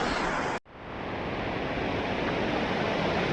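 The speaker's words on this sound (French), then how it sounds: "on passe sur la cascade en fait" Mountain waterfall on an alpine hike near Lac du Sambuis: a loud, dense, continuous roar of falling water close by, broken by one brief dropout before the rushing returns at full strength.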